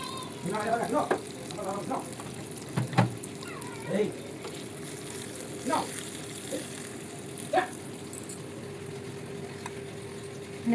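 A spoon stirs tempering into curd rice with soft, scattered wet scrapes and light clinks over a steady background hum, fairly faint and close.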